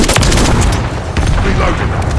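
A Semtex grenade from Call of Duty: Modern Warfare III explodes with loud booms over continuous heavy gunfire in a close-quarters match.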